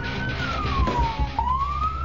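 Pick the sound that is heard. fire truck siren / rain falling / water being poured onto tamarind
fire truck siren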